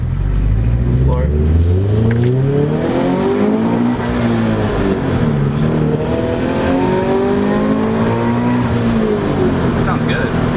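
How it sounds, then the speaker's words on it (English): A supercharged Subaru BRZ accelerates hard in first gear, its engine note climbing sharply and repeatedly in pitch with a strong, close, loud roar and supercharger whine. "Here, do a pull in first gear on this corner."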